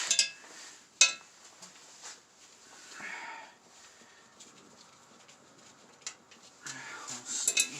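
Oil pan being worked off a Chevy 350 engine during a teardown: scattered metallic clinks and clatters, a sharp knock near the start, and light scraping at moderate distance with no talking.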